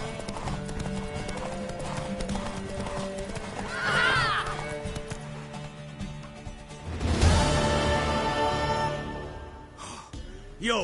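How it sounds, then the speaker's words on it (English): A horse in The Witcher video game clip-clops with hooves and gives a loud whinny, then a second neigh, with a few game sound effects around it. "Worthy of the best horse. The mare is yours."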